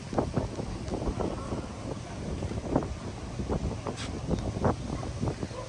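Wind gusts across open fields under a heavily clouded, darkening sky, a continuous rough buffeting rumble close to the microphone that swells and dips without pause.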